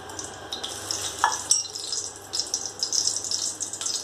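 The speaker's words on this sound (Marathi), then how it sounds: "तेलामध्ये मोहरी टाकून घेऊयात मोहरी जिरे" Mustard seeds and cumin tempering in hot oil give a steady, close crackling sizzle with scattered sharp pops throughout.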